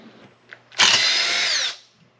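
A power tool whirs in a single short burst of under a second while removing the muffler from a Poulan Pro 425 chainsaw, loud and close, with faint clicks before and after.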